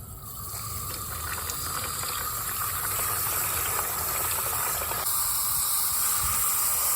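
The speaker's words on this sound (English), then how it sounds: "I'm gonna get these rinsed off, cleaned up" Tumbled Ocean Jasper and Smokey Quartz stones are rinsed under running water, a steady close hiss and splash that continues throughout with no talking.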